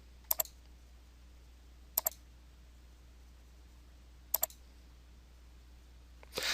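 Quiet mouse clicks on a computer in Excel, three separate crisp double-clicks spaced a couple of seconds apart over faint room hiss.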